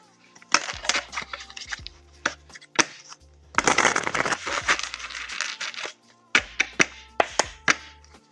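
Tarot cards being shuffled close up, with riffling bursts, taps and soft crinkling, interrupted by short pauses between shuffles; no talking.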